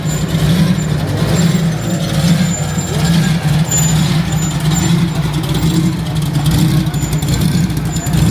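Truck air brakes releasing air at an outdoor car show, a steady loud rumble of idling engines and traffic with a hissing air release and faint beeps over the top.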